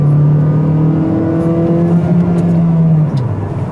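A new Kia Sportage's engine drones steadily while driving, a loud continuous hum with a slowly rising tone and faint road noise, ending with a slight drop in level; no voices are heard.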